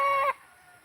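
A single short cluck from a chicken, close and clear, then quiet background.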